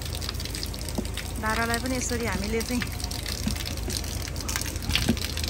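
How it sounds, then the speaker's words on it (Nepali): Water gushing steadily from an outdoor tap spout in a park area, a continuous rushing flow heard close by beneath someone talking. "धारामा चाहिँ अब हामीले जत्रो पानी चलाए पनि"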